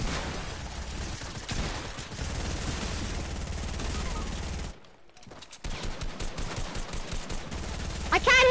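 Gunfire in the video game Fortnite, dense bursts of rapid shots running steadily for several seconds, cutting out briefly, then returning in choppier separate bursts, with a voice talking faintly underneath.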